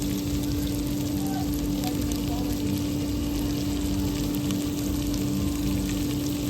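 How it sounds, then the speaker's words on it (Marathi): Ginger-garlic paste sizzles and fries steadily in a hot pan while biryani is being cooked, a continuous close hiss with a low hum underneath and no talk. "आपण आता आलं लसणाची पेस्ट टाकतोय"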